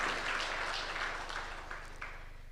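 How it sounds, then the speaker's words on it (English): Audience applause at a formal repatriation ceremony for Namibian remains, a steady wash of many hands clapping throughout, moderately loud, with no speech over it. "Can we give them a round of applause,"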